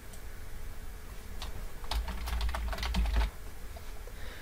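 Typing on a computer keyboard, a quiet run of close key clicks that bunches into a faster flurry in the middle, heard alone without talk.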